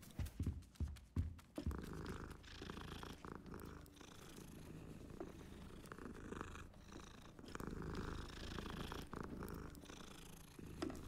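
Cats purring in the Hogwarts Legacy video game, a soft continuous low purr after a few sharp taps at the start, quiet throughout.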